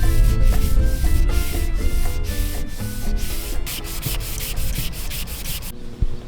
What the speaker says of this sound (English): those areas were going to need a lot of sanding to get the mirror shine I was looking for